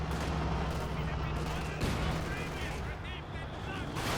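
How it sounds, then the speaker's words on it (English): MG42 machine gun fire rattles continuously in a Company of Heroes 2 battle, dense loud gunfire and explosions blending into a constant din with a voice talking over it. "MG42 hitting the Panzer Grenadiers."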